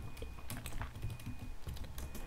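Rapid typing on a computer keyboard while coding in Python, a dense run of fast clicking keystrokes close by with no talking.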